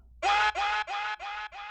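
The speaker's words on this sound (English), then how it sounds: "to start the verse off, I use this vocal shout." A single shouted vocal syllable sample in a hip-hop beat repeats five times in quick succession through a delay effect, each echo slightly quieter, trailing off.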